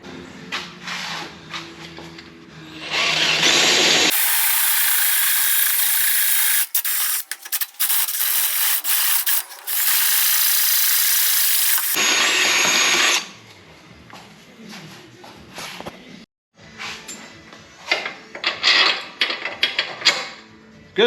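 A power drill bores a second bolt hole through metal on a Jeep XJ during a Metalcloak 3.5-inch lift install, a loud sustained grinding whine for about eight seconds with short breaks, followed by quieter handling clatter.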